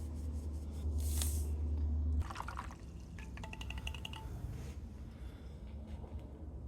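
Salt water pours steadily into a container for about two seconds, followed by quieter sloshing and light clinks nearby.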